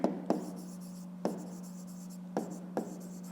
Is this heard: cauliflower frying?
no